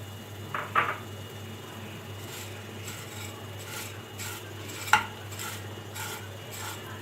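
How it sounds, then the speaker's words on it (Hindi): Vermicelli (sewaiyan) frying in ghee in a pan gives faint, continuous rubbing and stirring with a low sizzle, and two sharper utensil scrapes against the pan stand out. "बाकी जो घी था अब इसमें हम सेवइयाँ फ्राई करेंगे"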